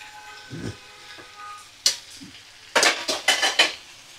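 Chopped bottle gourd tipped into a pan of fried spices: a sharp metallic clank, then a cluster of rapid clattering scrapes of utensil against pan, close up, with a faint sizzle underneath and no talk.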